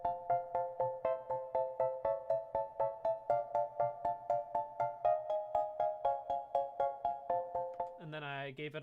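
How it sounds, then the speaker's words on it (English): A short, jaunty piano chord pattern repeats in a bouncy, steady rhythm with crisp attacks, played alone and clearly, before cutting off into a brief different sound at the end. "I started with just this, which was the little piano chord section."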